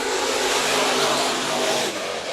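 IMCA Modified race cars roar around Bakersfield Speedway during a heat race, a dense, loud wall of engine noise from the pack that holds steady throughout with no talk.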